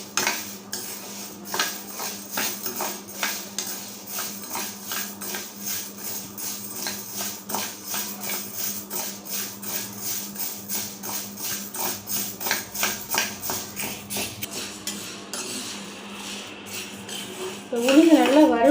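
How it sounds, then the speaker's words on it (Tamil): Black urad dal dry-roasts in a kadai over a medium flame, stirred with a metal spoon that scrapes and clinks in a quick, steady rhythm for a long stretch, close and clear, with a brief louder burst near the end. "இந்த கடாயில் சேர்த்து ஸ்டவ் மீடியம் ஃப்ளேமில் வச்சு கருக விடாமல் வாசம் வர வரைக்கும் நல்லா வறுத்துக்காங்க"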